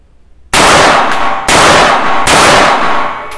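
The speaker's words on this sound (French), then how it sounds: "ce flingue, comment vous dire, fait ping à l'infini" Three loud, sharp shots from a UTAS UT9M 9x19 pistol, each followed by a long metallic ringing ping that carries on until the next shot, close and dominant over a quiet start.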